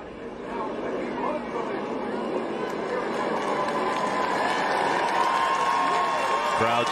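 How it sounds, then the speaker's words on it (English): A large NASCAR crowd cheers and applauds as a driver climbs out of a burning wrecked car, a broad, steady roar of noise filling the grandstands, with a commentator talking over it. "Crowd seeing Anthony get out of that car."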